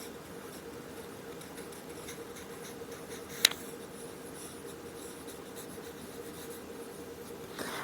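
A pen scratches steadily on notebook paper, soft and close, with one sharp tap partway through and a faint room hum beneath.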